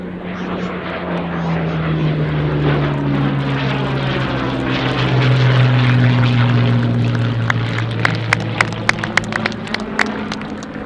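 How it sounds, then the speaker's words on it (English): Hawker Hurricane propeller fighter approaching to land at Dunsfold airfield during an air show, its piston engine drone loud and steady with a slowly sliding pitch as it passes, crowd and wind noise beneath. "Peter coming in now with the Hurricane. He will land that."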